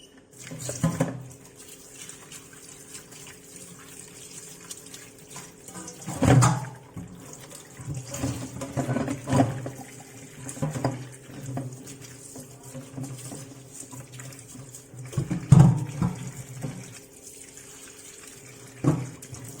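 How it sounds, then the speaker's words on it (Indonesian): Fruit is washed piece by piece under a running kitchen tap, producing a soft continuous water flow with irregular splashes and louder gushes as each piece is handled. "Kita cuci buah satu persatu."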